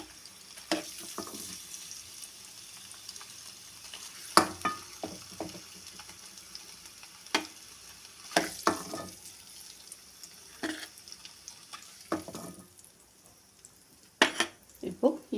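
Eggs in masala are stirred and fried in a pan on an Indian stove, with a quiet sizzle under repeated clinks and scrapes of a spoon against the pan coming in irregular bursts.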